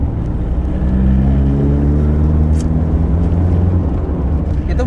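Peugeot 505 GTI engine revving up with a steady, loud low drone and rising harmonic tones during acceleration, heard from inside the car.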